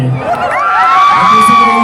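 An audience at a music video premiere show cheers loudly, with close, overlapping whoops and high shouts forming a dense wall of excited crowd noise.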